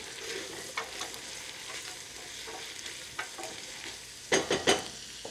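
Potatoes seasoned with salt, pepper and thyme fry in a pan, giving a steady soft sizzle with light scraping and a few louder stirring clatters near the end.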